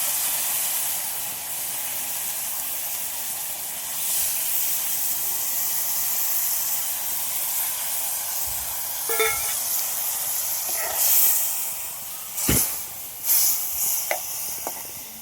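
Mustard paste with green chillies and pabda fish coming to a boil in a village kitchen: a steady close hiss and sizzle, with a few sharp pops and clicks near the end and no speech.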